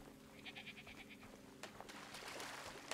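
Sheep bleating in the video game Superbrothers Sword & Sworcery, a short run of repeated pulsed bleats that gives way to other brighter game sounds over a steady ambient bed, with no talk.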